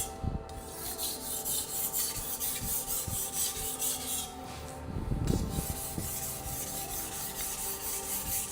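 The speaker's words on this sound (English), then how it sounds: "you should be able to sharpen a knife on a stone" A kitchen knife drawn back and forth across a whetstone, giving a rhythmic series of soft, gritty rasping strokes, fairly quiet and close, with no voices.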